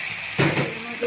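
Sliced onions dropped into hot oil in a pan for a prawn fry, a brief loud sizzle burst with a little stirring.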